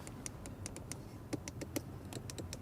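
Interior door levers of an Audi RS7 Performance being worked, a quiet series of sharp plastic clicks in an irregular rhythm over faint background hum.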